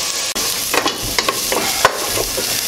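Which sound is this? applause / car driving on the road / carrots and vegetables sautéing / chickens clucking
carrots and vegetables sautéing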